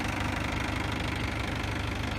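Farm tractor engine running steadily nearby, a loud continuous low rumbling idle with a regular knocking pulse throughout and no voices.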